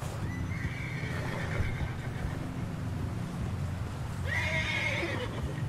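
A horse in Red Dead Redemption 2 gives two whinnies, one early and one near the end, over a steady background of hooves clip-clopping and ambient rumble, with no talking.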